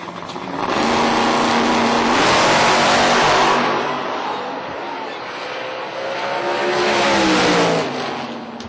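Radial drag race cars at a Texas drag strip launch and accelerate hard, loud engines roaring and revving with rising pitch sweeps across the whole stretch, close and dominant.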